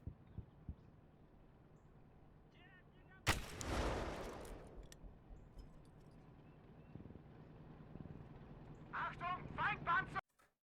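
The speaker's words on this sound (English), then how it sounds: "And if we use PIAT, let me just aim real quick." A PIAT anti-tank weapon fires in the Gates of Hell World War II game, one loud sharp blast with a rumbling tail, rising out of quiet ambience, followed later by brief voice-like calls near the end.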